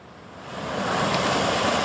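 Heavy surf from large ocean waves during bad weather at Merak, Cilegon, Banten, a broad continuous roar that swells slightly louder, with no voices.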